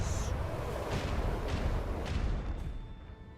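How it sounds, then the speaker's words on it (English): Macro cannons aboard a void ship firing in the video game Rogue Trader, a steady roar of heavy artillery with several booming blasts rolling over one another, loud and continuous. "Unleash the storm of macro cannons."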